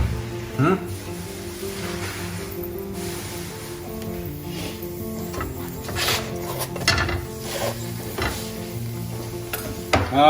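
A parota cooks and puffs on a hot pan, giving a low, steady sizzle with occasional scrapes and clinks of utensils and a louder clatter at the end, under nearby speech.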